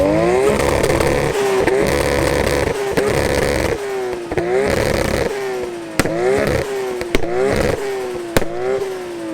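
An 800 bhp Nissan R34 GTR with a 2.8L stroker engine revs hard and loud, accelerating in repeated rising pulls. Sharp cracks and pops punctuate each gear change, heard from inside the moving car.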